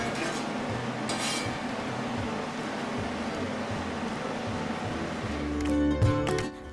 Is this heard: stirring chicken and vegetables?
yes